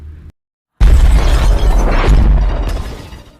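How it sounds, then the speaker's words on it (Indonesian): A loud crashing explosion of an underwater corridor collapsing in the game Under Water erupts after a short silence, with debris rumbling and shattering that slowly fades out. "seketika lorong hancur"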